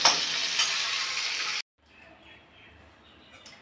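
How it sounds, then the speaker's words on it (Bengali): Mustard seeds and chili hit hot oil for a tempering after fish frying, giving a loud, dense crackling sizzle that cuts off abruptly after about a second and a half, leaving a quiet room. "এবার তেলের মধ্যে একটু সর্ষে আর লঙ্কা ফোড়ন দিলাম।"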